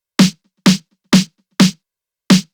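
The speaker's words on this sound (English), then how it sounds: "My snare sounds like this." Five sharp, punchy snare drum hits from an electro pop beat, evenly spaced and loud, each a crisp noisy crack with a short body, played alone with no talking.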